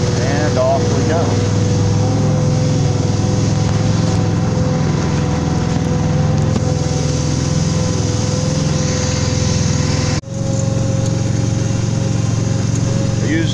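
A mower cutting golf greens runs steadily close by, a constant high engine whine with a steady hum under it. A brief dip comes near the ten-second mark.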